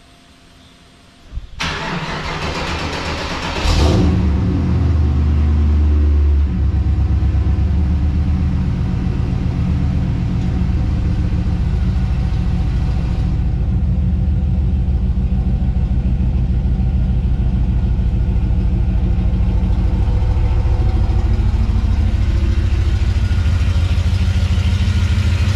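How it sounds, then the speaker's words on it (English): A car engine cranks and fires up, then settles into a loud, steady low rumble that continues while the car drives off down the road, heard close from inside with no talking. "So let's go on a drive."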